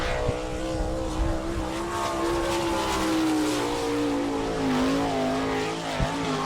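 A sprint car at a dirt track in Attica, Ohio, takes a fast qualifying lap, its engine note loud and close with a steady high drone that slowly falls in pitch as it passes.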